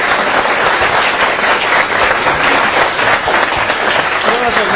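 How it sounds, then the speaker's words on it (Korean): Audience applause closing a conservative talk event, loud dense clapping sustained throughout without a break. "크게 박수 치면서 이 자리 마무리하겠습니다"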